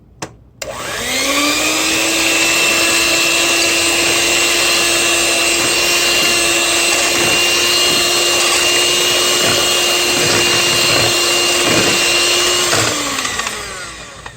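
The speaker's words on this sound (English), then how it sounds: "we're just going to be mixing all those wet ingredients first" An electric hand mixer whirs loudly and steadily for about twelve seconds while blending wet ingredients, vegetable oil and vanilla among them, for a tres leches cake, with faint bumps against the bowl before winding down.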